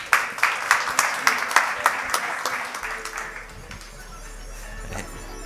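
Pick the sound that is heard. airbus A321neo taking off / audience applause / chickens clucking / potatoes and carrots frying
audience applause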